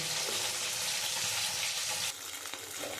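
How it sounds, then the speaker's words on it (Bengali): An egg frying in oil in a pan, heard as a soft, continuous sizzle that fades a little partway through. It is brief and fairly quiet, with no voices. "আমার ডিমটা ভাজা হয়ে গেছে"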